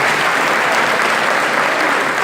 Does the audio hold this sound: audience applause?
yes